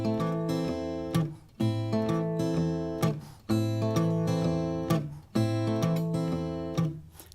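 A tricky fingerstyle guitar rhythm plucked over a constant bass line, lightly swung, repeating in four even phrases, close and clear with no voice.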